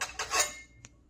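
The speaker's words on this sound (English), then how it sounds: "you can pull out a pan. I'm using this rather large" Large Hexclad non-stick pan, around 16 to 18 inches, pulled out and handled in a kitchen: a few metallic clatters and scrapes, then a single short clink, close by.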